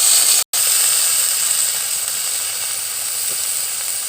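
Cut banana, drumstick, bitter gourd and potato hit hot oil seasoned with five-spice, giving a steady loud hiss and sizzle with a brief cut-out near the start, no voices.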